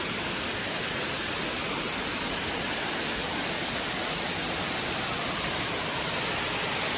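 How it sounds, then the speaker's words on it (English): Namuang Waterfall on Koh Samui in rainy season, full of water and about 18 meters high, roars in a steady, dense wash of falling water that fills everything, loud and unbroken, with no voices. "as you can see, there is a lot of water."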